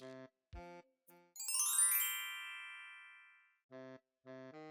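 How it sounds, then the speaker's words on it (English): A house doorbell chimes once, a bright ringing tone that rises quickly and fades slowly over about two seconds, set between short tonal bursts in a quiet room. "How long were you planning on ringing my doorbell?"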